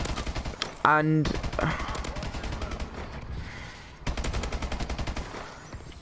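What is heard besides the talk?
gunfire in Call of Duty video game gunfight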